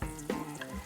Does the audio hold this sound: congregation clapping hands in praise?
no